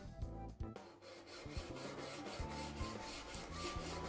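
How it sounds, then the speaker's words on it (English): A hand saw cuts an outlet hole in a rain gutter with regular back-and-forth rasping strokes. The strokes are close and moderately loud and settle into an even rhythm after a few uneven starts, with no voices. "There are different ways of marking the hole, but today I'm using a saw"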